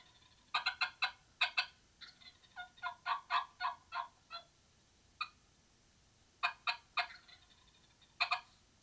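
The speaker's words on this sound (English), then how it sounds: "when he gobbled at me, which I almost was certain that he was going to do" A wild turkey gobbler in the woods gobbles in repeated rattling bursts, with clusters of sharp calls spread over several seconds, moderately close against a quiet outdoor background.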